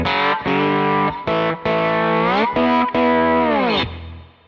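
Slide guitar plays a clean tone through a Kemper Profiler, several separate gliding notes that bend and slide in pitch between short gaps, up close and loud, then fade out.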